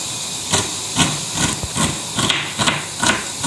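Minced meat frying in a pan, a steady loud hiss and sizzle broken by rhythmic bursts of stirring and scraping roughly every half second, close up with no talking.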